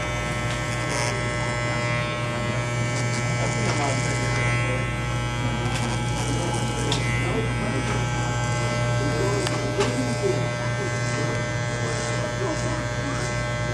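Electric hair clippers buzz steadily through a child's fade haircut. The hum runs close and continuous throughout while people talk over it.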